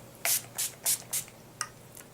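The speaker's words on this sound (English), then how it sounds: "Then I'm going to take the Urban Decay De-Slick and spray this all over my face." Six short hissing sprays of Urban Decay De-Slick setting spray onto a face, four in quick succession then two more after a pause, close and crisp in a quiet room.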